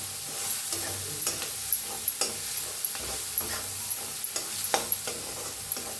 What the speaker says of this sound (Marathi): एक चमचा अर्धा चमचा हळद मिक्स करूया छान भाजून घेऊया आपण